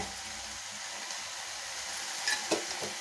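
Eggplant, potato and field beans fry in a pan with onion and tomato, giving a steady soft sizzle close by, with a couple of brief stirring clinks near the end.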